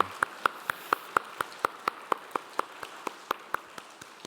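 A congregation claps for a family standing during a Sunday church service, a steady, evenly spaced run of sharp claps at a brisk, regular beat, fairly soft against a quiet room.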